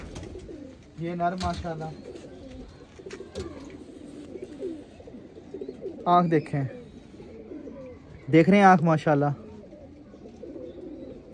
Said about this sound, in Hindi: भी आपके सामने मस्तियां कर रहा था कबूतर